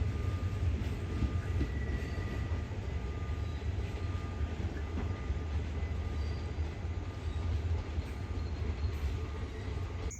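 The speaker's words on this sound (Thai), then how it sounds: "ขบวน985ต้นทางจาก สถานี กรุงเทพหัวลำโพง ปลายทางสถานี สุไหงโกลก ออกจากสุราษฎร์ธานี ทางที่ 3 ไปแล้วครับ" Thai rapid train 985, running from Bangkok Hua Lamphong to Sungai Kolok, pulls out of Surat Thani station on track 3 at night. A steady, loud low rumble and rolling clatter of wagons continue throughout without talk.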